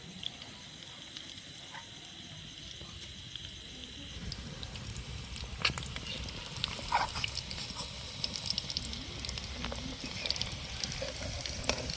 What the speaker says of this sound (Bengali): এটা হচ্ছে লাস্ট চিকেন ভাজা তো এটা আমি এবারে তুলে নেবো